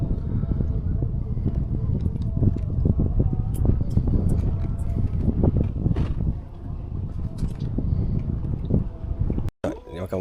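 Steady roaring wind and rain at sea, a constant loud wash with mechanical rumble that may be a helicopter overhead, a voice talking over it and a brief dropout near the end.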